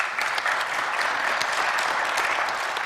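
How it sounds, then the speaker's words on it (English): Steady applause from a live audience at a political discussion event, dense continuous clapping filling the whole stretch with a faint crowd murmur beneath. "my mom actually is clapping right now"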